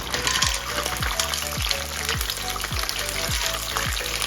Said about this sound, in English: I'm going to start to fry this prawn.